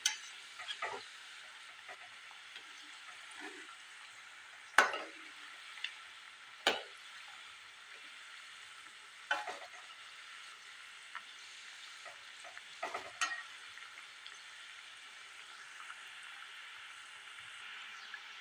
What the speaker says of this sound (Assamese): এইদৰে মই গোটেই পিঠা ভাজি ৰেডি কৰি লওঁ